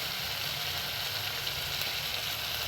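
Tomato, garlic and onion sauté in a pan, giving a steady, bright, hissing sizzle that holds even and close throughout, with no talk.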